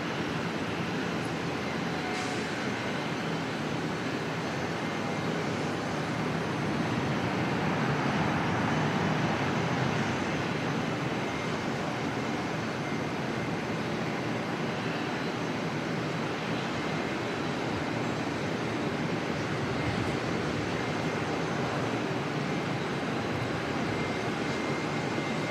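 A jet airliner lands and rolls out on the runway at Auckland Airport, heard as a steady, broad, distant roar that holds at an even level throughout, with no voices.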